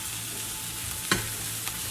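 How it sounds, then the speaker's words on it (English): Veal fries in oil with a quiet, even sizzle, broken once by a brief sharp crackle as the meat is stirred or shifted, with no voices. "That little sizzling is nice because you're gonna get that little color in there."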